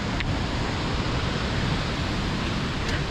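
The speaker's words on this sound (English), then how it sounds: "Oh, it's always so cool to see waterfalls like this." Lower Falls at Wallace Falls pouring in the rain, a constant broadband rush of falling water that stays steady and full without pause or voices.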